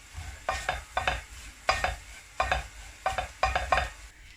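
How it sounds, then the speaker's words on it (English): Onions and vegetables coated in curry powder are stirred in a pan for a vegan cabbage curry, giving a series of quick scraping strokes in pairs over a soft sizzle, close and fairly quiet. "So just gonna mix my veggies up so that all these onions and vegetables get coated with the curry powder."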